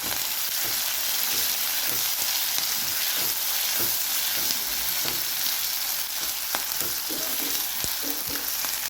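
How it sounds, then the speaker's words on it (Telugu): Onions, green chillies and boiled potatoes frying in a pan for Maharashtra-style poha, giving a steady close sizzle with faint stirring scrapes throughout and no talking. "ఇప్పుడు ఉల్లిపాయలు, పచ్చిమిరపకాయలు, ఉడికిన బంగాళదుంపలు వేసుకొని వేయించుకోవాలి."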